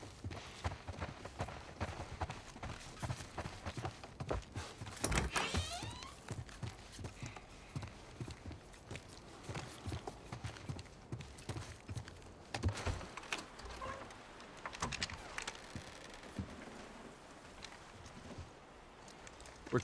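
Rhythmic hoof clip-clops from horses moving over hard ground in The Last of Us Part 1, steady and fairly close, with scattered thumps and shuffling around them.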